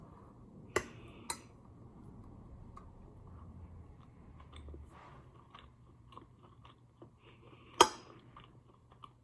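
Someone bites into and chews a slice of homemade vegan banana nut bread, with soft close-up chewing and a couple of sharp crunchy bites over a quiet room.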